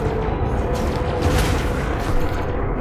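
Ship cannons fire in the space combat game Elite: Dangerous, a dense, continuous rumble of booming shots and weapon noise that stays loud and steady throughout with no clear gaps.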